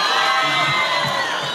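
Audience at a live show with Cholo Juanito performing, cheering and whooping in a dense, loud wash of crowd noise with shouting voices, sustained and fairly steady throughout.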